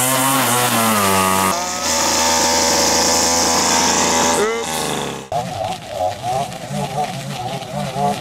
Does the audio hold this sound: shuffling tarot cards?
no